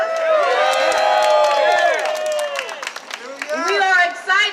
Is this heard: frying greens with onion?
no